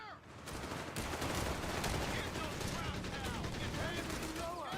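Sustained machine-gun bursts and scattered rifle shots crackle through a Company of Heroes battle, a dense, fairly faint stream of gunfire with a brief lull at the start and someone commentating over it.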